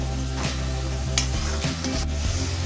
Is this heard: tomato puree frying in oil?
yes